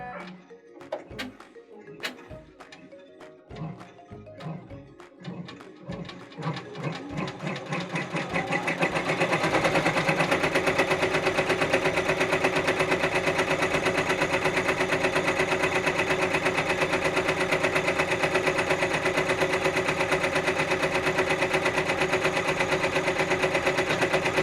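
A multi-needle embroidery machine starts with a few separate clicks and thumps, then speeds into a loud, steady rapid stitching rattle that runs continuously to the end, with no voices.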